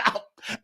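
A woman gives a quick burst of coughs, about three short, close harsh hacks in rapid succession.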